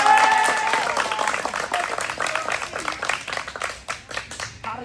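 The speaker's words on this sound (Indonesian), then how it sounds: "Tepuk tangan lagi ya tuh." Students applaud at a high school welcome ceremony: a burst of crowd clapping that thins out into scattered individual claps, with faint voices mixed in.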